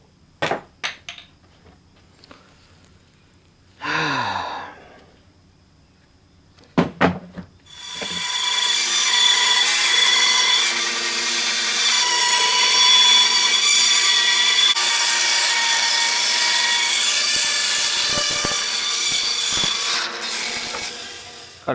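A saw cuts cedar wood for a serving tray. A few scattered knocks and scrapes come first, then a loud, continuous rasping cut runs close by for the rest of the stretch.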